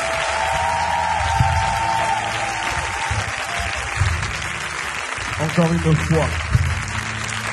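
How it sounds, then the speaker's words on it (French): A crowd at a church gathering applauds and cheers in a sustained, loud wash, while someone speaks over the noise and sustained musical tones hum underneath. "Est-ce que tu peux encore acclamer le Seigneur ce soir?"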